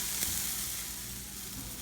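Sugar-free sauce warms in a pan and sizzles with a steady, close hiss throughout, with a faint clink near the start.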